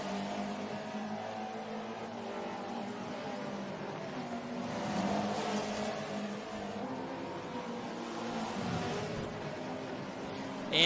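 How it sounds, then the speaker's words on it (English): Touring race cars in a racing video game scream past in close battle, engines revving and rising in pitch as several cars run side by side, continuous and moderately loud with no voice over them. "And look at this, a 3-car battle now that Star-Lord's gotten into the mix of it."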